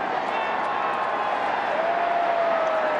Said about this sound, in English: a big crowd and a largely disappointed crowd